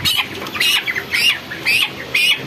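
A 27-day-old chicken of about 1.5 kg squawks loudly in four sharp, harsh bursts spaced evenly apart, close by, with nothing else around.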